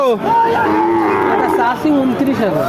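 Cattle low repeatedly at a busy rural livestock market in Bangladesh, a loud, close, drawn-out moo with a second bellow following, over faint background chatter.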